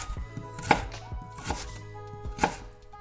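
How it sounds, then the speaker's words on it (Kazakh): A knife chops lettuce leaves for a salad on a board, three distinct, fairly loud cuts spaced about a second apart, with no one speaking. "Помидорымызды турап болғаннан кейін салатный листті тураймыз жақсылап."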